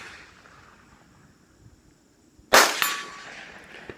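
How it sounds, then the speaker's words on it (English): Rifle fire from a Savage 93 BSEV at a practice range gives one sharp, loud crack with a ringing metallic clang of the bullet striking a steel target, then a fading ring-out after a quiet lead-in. "You can hear the hits on steel."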